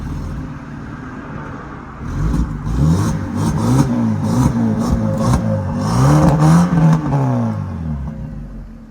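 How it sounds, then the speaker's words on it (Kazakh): A car engine revs as the gas pedal is pressed, rising and falling in several smooth surges over a steady idle, loud and close, with no talk. "Так, бир тебели эми газын, а? Газын көрсөтөйлүчү."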